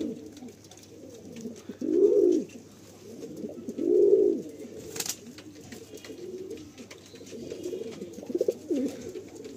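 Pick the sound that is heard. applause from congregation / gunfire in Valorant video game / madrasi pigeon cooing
madrasi pigeon cooing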